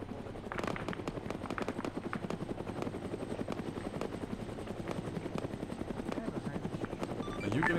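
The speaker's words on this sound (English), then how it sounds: "Let's wait for the chopper to fly in those people." A helicopter flies in a German military simulation game, its rotor chopping loudly and steadily at close range for the whole stretch without letting up.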